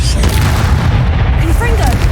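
A fire spell in the video game Hogwarts Legacy gives a loud, sustained roaring whoosh of flame with a deep rumble underneath, while a voice shouts over it.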